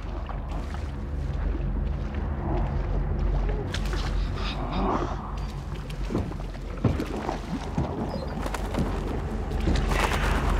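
Pigeons in Little Nightmares II give soft, low coos several times over a rumbling game background, with scattered thumps and clatter.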